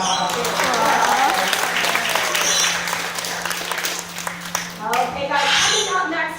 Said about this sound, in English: I think we deserve to give her another huge round of applause